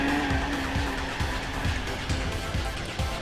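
A drift car with a welded differential in Gran Turismo 4 holds a steady engine drone under a sustained tire squeal, with a repeating low thump pulsing about every half second, loud and continuous for the whole stretch.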